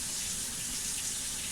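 Warm water runs steadily from a kitchen tap, a continuous close hiss and splash with no pauses or voices.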